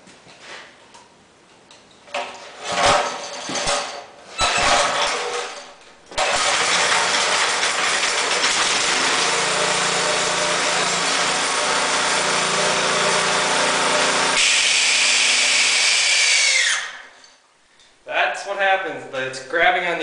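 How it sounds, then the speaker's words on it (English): A Briggs and Stratton engine cranks over in short bursts, then starts and runs steadily with a harsh screeching squeal from a grabbing overrunning clutch before cutting off; talking is heard between the attempts. "it makes a screeching and squealing sound once the engine started, because it's grabbing on that overrunning clutch"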